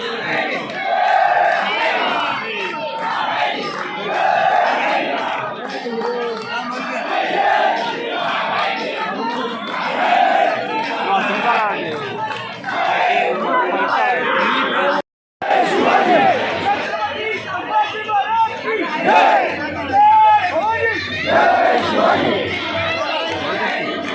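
A large festival crowd at a temple procession in Kolhapur chants rhythmic call-and-response cries of Narayani and hails to Shivaji Maharaj, loud repeated phrases with general chatter mixed in and a brief dropout midway.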